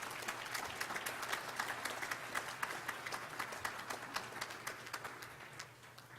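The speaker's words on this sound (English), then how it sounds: "Give them a round of applause, can you please?" A large audience at a State of the City address claps for staff in a dense, sustained round of applause, steady and even before easing off slightly at the end.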